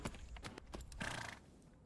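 Faint hoofbeats clip-clop irregularly from a horse in the equestrian video game Tales of Rein Ravine, with a short whinny-like sound in the middle.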